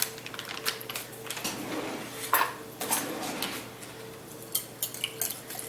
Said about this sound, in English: dump this in here just to kind of give it a stir.